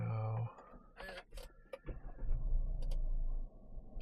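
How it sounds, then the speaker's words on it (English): KGM Torres 2025 with its 1.5 TGD-i engine starting from a push-button start, cabin sounds first, then a low, steady engine rumble building and settling to idle, heard from inside the car with faint talking. "And let's start the car."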